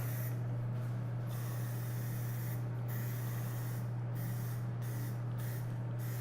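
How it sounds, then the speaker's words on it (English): Failing spray paint can sputtering over a steady low hum, giving uneven hissing bursts that break off and restart several times, close and fairly quiet. "This paint can's giving out. It's starting to spray really sketchy."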